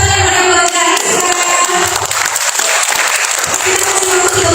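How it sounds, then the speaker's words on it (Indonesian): Audience applause at a job fair interview-tips workshop in Magelang, a broad crowd clapping that swells after an opening tone and holds steady, with some crowd noise mixed in. "kita kasih tepuk tangan buat Kak Rizka."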